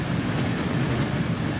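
A train rumbles steadily through Blacktown station without stopping, a dense, loud, continuous low roar of wheels and carriages close by on the platform.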